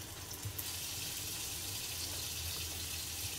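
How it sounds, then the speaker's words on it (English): Water pours steadily into a pot of green chile, a continuous close hiss and gush with no talking. "And then I'm going to add the water."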